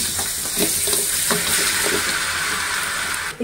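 Dates sizzle and fry in hot ghee in a pan, a steady loud crackling hiss with stirring clatter, close up and with no voices.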